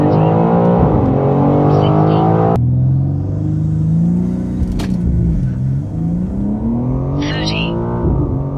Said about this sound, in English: I'm gonna hold the brake completely down and go full throttle